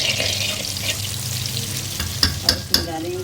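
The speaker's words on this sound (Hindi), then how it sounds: "अब हम इसको तड़का देंगे। तेल गरम हो गई है।" Oil hot for a tadka of whole spices and red chilli, crackling and sizzling steadily, with a few sharp clinks of a spoon on the pan near the end.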